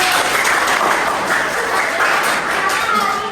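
Schoolchildren applaud together in a classroom, a loud, dense and steady burst of clapping that fills the whole stretch without pause.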